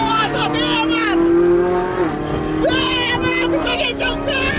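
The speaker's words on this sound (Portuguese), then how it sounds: "Quero botar o barulho do carro." A Ferrari drives along with its engine humming as a steady, fairly close drone that rises and falls in pitch. People talk excitedly over it throughout.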